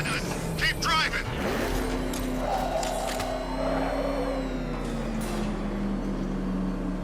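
Car engine in Batman: Arkham Knight during a chase, a steady roaring drone with revving pitch changes and brief tire noise, with voices talking over it.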